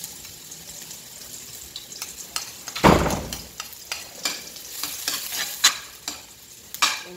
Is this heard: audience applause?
no